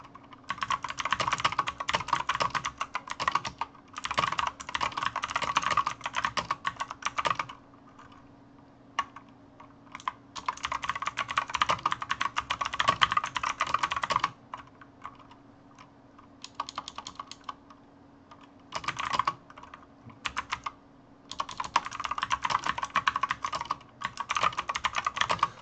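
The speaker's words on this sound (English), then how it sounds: "I'm gonna be typing up some stuff" Fingers type on a computer keyboard in rapid clattering bursts separated by short pauses, close and steady over a low background hum, with no talking.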